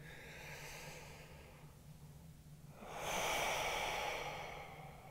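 Slow, deep breaths during a men's yoga hip stretch: a long inhale, a pause, then a fuller, louder exhale, close to the microphone with no speech.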